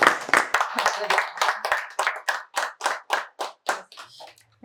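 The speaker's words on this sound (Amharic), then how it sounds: "እንደገና ጭብጨባ ያስፈልጋል።" Hands clap in a steady series of sharp, even beats, starting as a brief burst of group applause and settling into about a dozen distinct, evenly spaced claps that fade toward the end, fairly close and loud.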